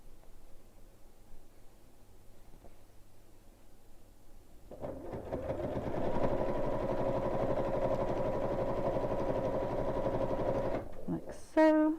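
A sewing machine stitches across the bottom of a piece of fabric, running steadily at close range for several seconds after a quiet start, then stopping with a short clatter.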